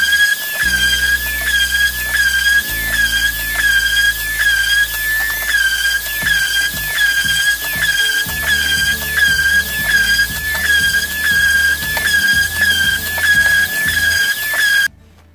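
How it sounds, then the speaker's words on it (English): A disc sander runs continuously and loudly with a steady high-pitched whine and squeal, with small knocking bumps underneath as pieces are pressed against it, stopping abruptly near the end. "go spend some time with the disc sander"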